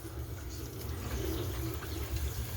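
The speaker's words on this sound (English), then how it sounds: "Yes, it's dripping." A leaking bathroom tap runs water in a steady, close, continuous wash with no talk over it.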